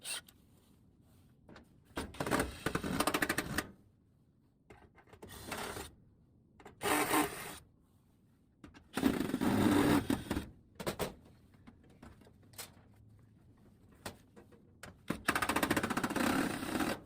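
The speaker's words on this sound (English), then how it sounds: "Now I'm simply going to unscrew the tech screws in the corners that hold it in place." A drill driver or screwdriver backs out tech screws holding a 15,000-watt electric heater in a commercial office building, giving intermittent bursts of whirring and scraping separated by quiet gaps, nearby and moderately loud with no talking.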